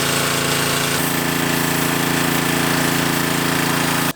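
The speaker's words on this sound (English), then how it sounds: "I've been under the car using a wire wheel on my drill" A drill spins a wire wheel against metal under a car, a loud, steady, rapid buzzing grind that runs without pause, very close.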